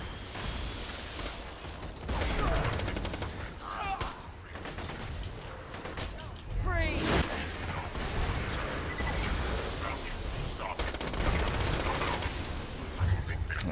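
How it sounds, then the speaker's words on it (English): WTF grenades going off in Borderlands 2, a dense barrage of explosions and rapid gunfire crackling throughout, loud and busy with overlapping combat noise. "Watch out for those WTF grenades going off there."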